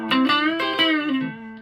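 Electric guitar played through a Carlton HGS100 amplifier with reverb switched on, several sustained chords ringing in succession with a rich, smeared tail, loud and close with no talking.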